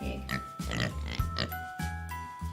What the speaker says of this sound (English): We have a pink pig